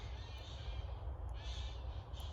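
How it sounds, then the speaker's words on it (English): Harsh cawing squawks from birds outdoors, repeated a few times at moderate distance over a steady low background rumble. "Yo, the parrots are getting loose."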